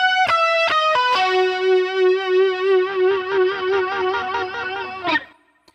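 An electric guitar plays a short lead lick through effects in a worship-style song, a few plucked notes then a long wavering sustained note with chorus and echo shimmer, ending in a final pluck that rings out.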